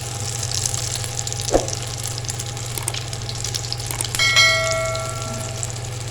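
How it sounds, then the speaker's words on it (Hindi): Eggs frying on a hot griddle for anda shami burgers, a steady close sizzle running throughout with a single sharp clink partway and a brief metallic ring near the end. "चलें जी अब तवे पे अंडों को फ्राई कर लेते हैं।"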